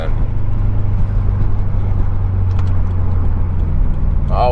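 A Subaru STI with a newly installed Tomei exhaust rumbles loud and close, a deep steady engine drone heard from inside the car, with a brief higher whine near the end.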